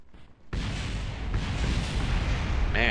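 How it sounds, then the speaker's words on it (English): A large explosion in the Kerbal Space Program game bursts in abruptly after a quiet start, then rolls on as a loud, sustained rumbling roar with further blasts layered in, no voices over it. "Man, that was quite a big explosion."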